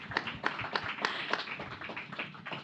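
A small audience claps faintly at a panel event, with sharp separate hand claps in a loose, uneven rhythm and no talking.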